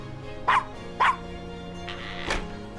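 A small dog in the Gabriel Knight game gives two sharp yips close by, then a whimpering whine, over a faint hum.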